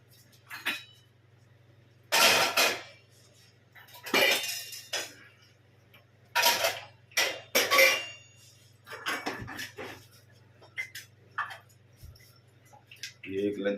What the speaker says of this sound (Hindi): ये हो गया लंच बॉक्स और गिलास का पैकिंग,